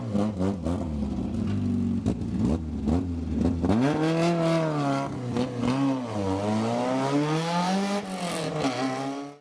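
A historic rally car on an Irish tarmac stage revs hard after spinning back around, its engine pitch climbing and falling through several loud, close revs before it pulls away.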